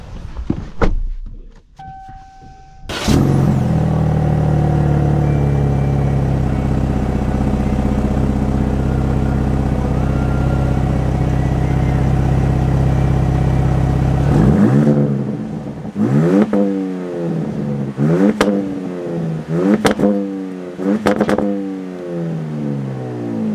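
A 2025 Ram RHO pickup truck starts up with a sharp burst, then its engine drones steadily and loudly before a series of rising acceleration pulls through gear changes, each surge climbing in pitch then dropping.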